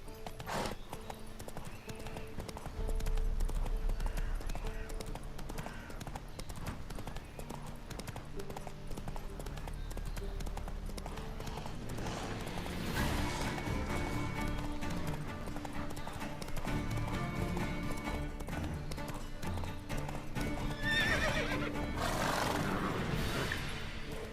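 Horse hooves clip-clop steadily at a gallop in The Witcher 3, with a brief whinny near the end, set over continuous game music and ambience.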